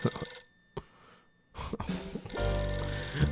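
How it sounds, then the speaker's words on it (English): A telephone rings in the video game Last Window: The Secret of Cape West, bright electronic tones cutting in and out between quiet gaps, followed by a sustained tonal stretch of game sound. "My phone's ringing."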